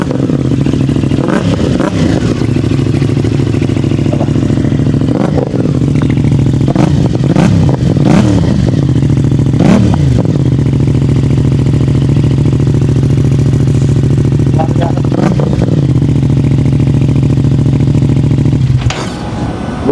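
A CF Moto 450 MT with a crossplane engine revs repeatedly from idle, with several sharp throttle blips over a steady, loud, close rumble and no talking.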